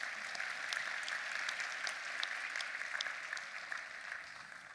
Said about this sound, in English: we give them a round of applause as well, if you don't mind.